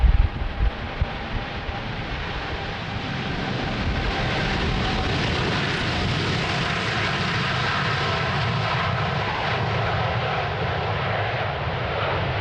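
A jet airliner roars steadily as it takes off from the Polderbaan runway 36L at Amsterdam Schiphol Airport on a windy morning, a broad continuous engine rumble with wind buffeting the microphone throughout.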